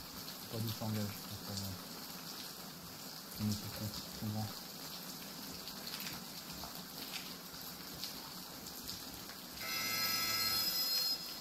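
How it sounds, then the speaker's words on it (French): A telephone rings in a few short, repeated bursts over steady rain noise, followed by a louder rush near the end. "T'as pas entendu la sonnerie"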